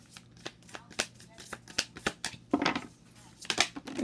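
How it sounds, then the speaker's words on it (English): Stiff tarot cards are shuffled by hand in a run of sharp, irregular riffles and snaps, close by, over a faint steady background hum. "I wish these cards weren't so hard to shuffle."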